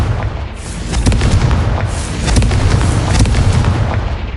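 Confringo fire spell exploding in the Hogwarts Legacy game, a loud dense burst of booming blasts and crackling debris that rolls on continuously with no pause.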